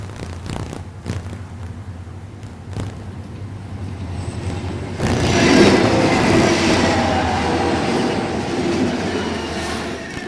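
A train on the Transcontinental Railroad, a roadbed now used by the Southern Pacific, rolling past with clattering wheels and a rising rumble that grows louder midway and carries on steadily.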